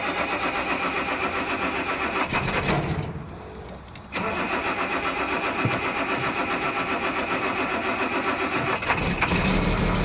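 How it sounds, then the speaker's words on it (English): A truck engine cranks and catches, its loud starter whine dropping briefly before the engine fires and settles into a steady, close idle with a rough mid-range rumble. "I'm going to start the truck."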